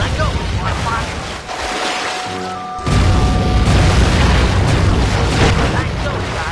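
A cannon fired from a rowboat in the Sly 3 video game, a deep booming blast after a short charging tone, followed by a sustained rumbling roar with watery background and a voice speaking.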